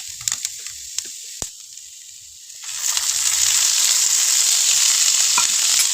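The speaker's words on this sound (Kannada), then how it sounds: "ಇವಾಗ ಮೆಣಸಿನ್ಕಾಯಿ ಹುರಿದಾಗಿದೆ" Green chillies fry in hot oil in a pan for a Karnataka-style chilli dish, with a soft hiss that suddenly swells into a loud, steady sizzle about halfway through and holds to the end.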